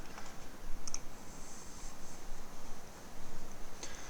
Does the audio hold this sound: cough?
no